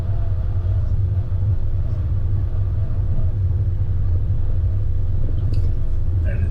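A car drives along a remote outback road near Innamincka, close to Cooper Creek, with a steady low rumble of engine and tyres running continuously at an even level.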